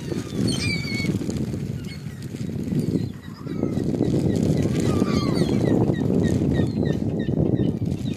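Swans call with honking, trumpeting cries at a lakeside on the Lake Ontario waterfront, scattered over steady wind and ambient noise, while a person speaks faintly in the background.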